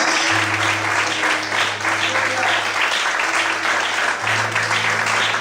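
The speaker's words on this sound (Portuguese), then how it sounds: "Você pode aplaudir o Senhor por isso?" A church congregation applauds, many hands clapping in a continuous wash while a low, held keyboard tone sustains beneath, and voices rise within the noise.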